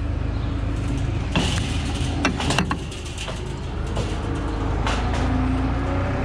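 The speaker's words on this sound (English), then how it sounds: "We're gonna bring the brush in here with the skid loader." A skid loader rumbles close by while carrying a heavy cow brush into a barn, its engine droning steadily with scattered metallic clanks and knocks.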